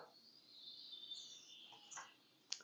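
Faint bird chirps and tweets from a GSPro golf simulator game play through a projector setup, with a few thin calls over a quiet background hiss, distant and soft.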